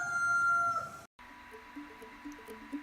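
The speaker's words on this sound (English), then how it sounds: "As you hear the roosters crowing in the background" Roosters crow in the background near Coeur d'Alene, Idaho: one long call fades and breaks off, then further, fainter crows and clucks follow.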